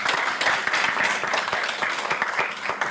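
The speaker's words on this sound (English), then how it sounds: "I request all the audience to give a loud applause for them" An audience at a research showcase session applauds the panelists, many hands clapping at once in a loud, even wash of crisp claps that holds steady throughout.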